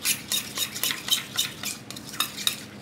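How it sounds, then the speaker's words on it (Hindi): Chocolate mixture stirred in a bowl for chocolate cube sweets, a spoon scraping and tapping in a steady rhythm of close, moderately loud strokes with no talking. "इसे अच्छे से मिक्स कर, अच्छे से मिक्स कर दें।"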